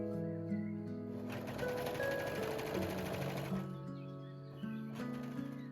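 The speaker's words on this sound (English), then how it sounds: "serge or zigzag stitch the side seams for prevent fraying." A sewing machine zigzag stitching the side seams of a sleeveless maxi sundress, a steady whirring run of rapid needle strokes that slows and pauses near the end.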